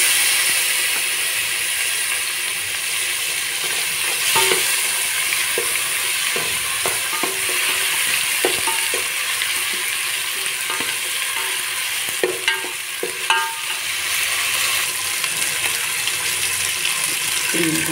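Chopped vegetables and tomato sizzling in a pan while being stirred, a constant frying hiss with scattered scraping and clinking of a utensil against the pan, close and steady.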